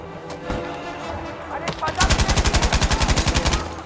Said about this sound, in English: Here's the infantry gun.